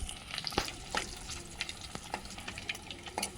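Eggs fry in oil with garlic and chili masala in a pan, making a soft, constant sizzle dotted with crackles and stirring scrapes close by, with no talking.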